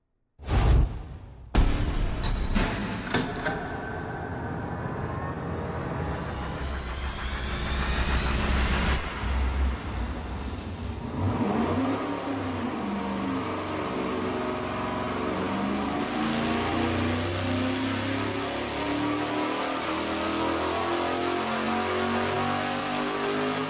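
A high-performance test engine roars on a dyno, spinning up with a rising whoosh and then holding a loud, steady, sustained pull at full load with no talk over it.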